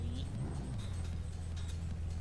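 A 1999 Mitsubishi Eclipse GSX engine runs in the racing game The Crew 2, a low, steady rumbling drone with slight shifts in pitch, heard alone at moderate volume.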